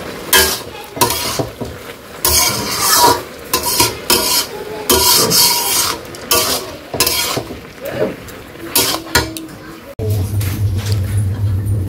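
Dal being stirred in a cooking pot, with repeated close scraping and rubbing strokes of a utensil against the metal in an uneven rhythm, followed by a steadier low bubbling sizzle near the end.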